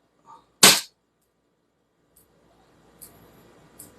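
A CZ Shadow 2 air pistol running on CO2 fires once, a single sharp, loud crack, followed by a few faint small clicks and rustles in near silence.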